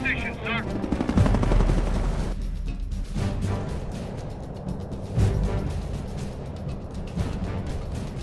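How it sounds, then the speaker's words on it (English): Enemy helicopter attack in the Cold War strategy game Codename Panzers: Cold War, with rotor drone, bursts of machine-gun fire and explosions mixed with game sound effects, loud and continuous. "An enemy helicopter has engaged with our troops, Commander."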